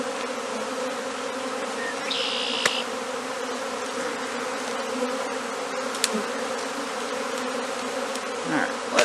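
A swarm of honey bees in a tree fills the air with a dense, steady buzzing close around, holding an even drone throughout with a few faint clicks and rustles.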